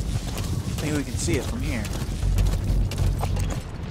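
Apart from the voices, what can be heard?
horse hooves clip-clopping in video game Metal Gear Solid V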